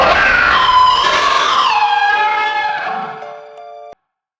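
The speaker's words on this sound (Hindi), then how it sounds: "एक सफेद साया चीखता हुआ इसकी तरफ लपका।" A ghostly scream sound effect in a Hindi horror story: a loud, wavering shriek that bends downward in pitch and fades into a thin sustained tone before cutting off sharply.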